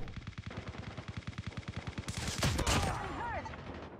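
A beefy automatic gun fires in a first-person shooter video game, a fast, regular burst of close shots for about two seconds, then louder blasts and a flurry of game effects as the firing ends.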